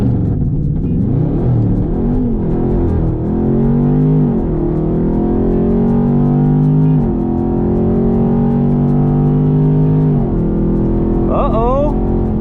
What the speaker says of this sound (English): To launch, press brake and quickly apply throttle.